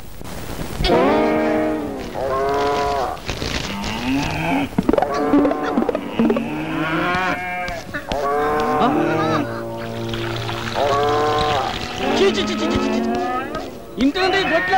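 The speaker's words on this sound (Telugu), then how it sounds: "ఇదేంటయ్యా సెంటు నొక్కుతుంటే బర్రెల సౌండ్ వస్తుంది?" Buffaloes moo repeatedly in a series of drawn-out, loud bellows close by, one after another throughout, with a few overlapping calls and occasional other noises mixed in.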